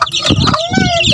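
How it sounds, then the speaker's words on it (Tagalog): Twenty-day-old chicks peep and chirp in a brooder, a cluster of thin, high cheeps rising and falling near the listener, with a person's low voice murmuring underneath. "So, 20 days na yung mga sisiw natin."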